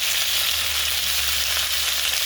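Bitter gourd fries in a pan with cumin, black cumin, salt and turmeric, making a dense, even sizzle that runs loud and close without pause, with no speech.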